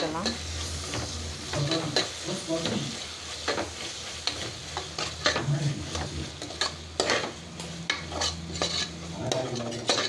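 Tomatoes with mint and coriander are stirred in a hot pan, giving a steady sizzle broken by frequent scrapes and clinks of a spoon against metal, close up and continuous.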